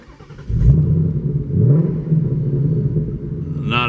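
A Ford Mustang GT engine turns over and settles into a deep, steady exhaust rumble with a brief rev partway through, loud and close, in normal exhaust mode.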